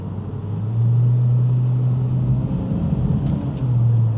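Steady low engine drone from inside a 2024 Acura Integra A-Spec with CVT in sport mode, rising slightly as it downshifts, a continuous hum with road rumble and no talking.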